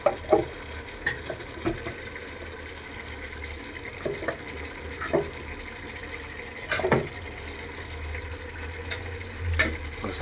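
Chicken curry being stirred in a pan after coconut powder is added, with soft scraping strokes and wet sloshing recurring every second or so over a low simmering bubble.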